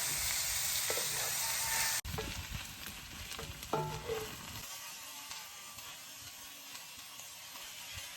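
Chorizo frying in its own rendered fat in a pan outdoors, a close, steady sizzle that drops abruptly and then continues softer, with a few clinks and stirring scrapes on top.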